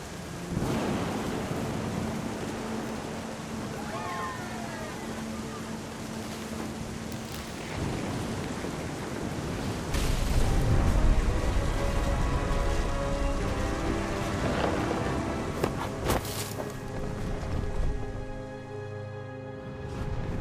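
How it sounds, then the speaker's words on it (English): Thunder and heavy rain from the video game What Remains of Edith Finch: a steady wash of rainfall with rolling thunder swelling loud around the middle, continuous and dense with no speech. "Thunder sounded much too close and full of angry power."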